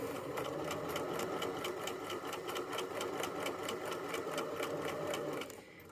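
A sewing machine stitching the side seam of a drawstring backpack, forward stitches and a backstitch: a steady, rapid mechanical whir with even rhythmic ticking, close and unbroken, then it stops just before the end.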